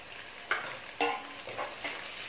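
Onions and tomatoes sizzling in a pan for poori masala, with a steady close frying hiss and a few brief scraping stirs on top.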